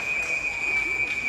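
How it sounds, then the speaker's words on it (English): A referee's whistle blows in a 3v3 game, a sustained shrill tone held steadily for over a second against continuous crowd and arena noise. "Whistle dead."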